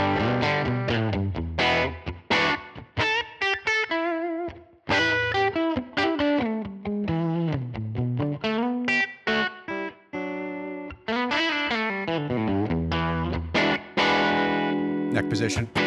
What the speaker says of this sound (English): Now I have my Sir Classic T Telly style guitar on the bridge position.